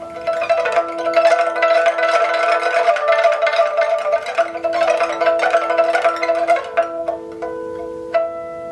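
A pipa is played in a rapid rippling tremolo meant to imitate flowing water, bright plucked notes streaming continuously over held pitches before thinning into a few sparse plucks at the end.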